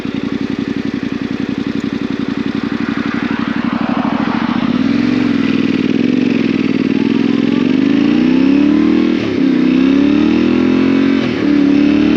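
A Yamaha T7 motorcycle ridden behind a windshield, engine droning loud and close with rising and falling pitch as it revs and shifts, wrapped in steady wind rush.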